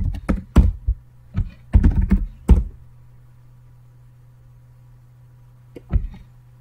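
A Linux command is typed on a computer keyboard in a close, clear burst of rapid key clacks lasting about two seconds, then a pause and a final single keystroke, over a faint steady hum.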